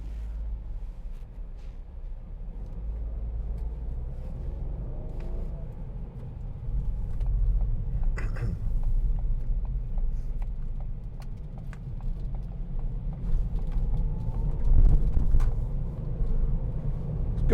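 A 2016 Ford B-Max Titanium X with a 1.0-litre turbocharged EcoBoost engine driving through town: a low steady engine hum and road rumble from inside the cabin, with faint clicks and small knocks over the drone.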